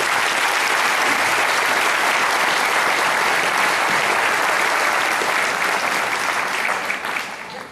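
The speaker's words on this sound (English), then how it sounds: "how about a round of applause for him, please?" An audience at a gymnasium dedication ceremony breaks into loud, dense applause, many hands clapping in a steady roar close by that holds throughout before tapering slightly at the end.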